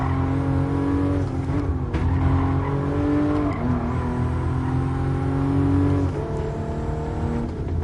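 Rear-wheel-drive race car in a GT Sport racing game, engine droning steadily with rising and falling revs through gear changes, plus brief tire squeal, loud and continuous with no talk.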